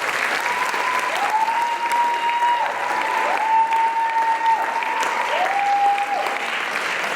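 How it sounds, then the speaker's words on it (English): Sustained applause from an audience at an Indian classical dance debut recital fills the whole stretch, steady and dense, with a faint voice or tone gliding above it. "Big round of applause."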